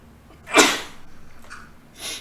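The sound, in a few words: sneeze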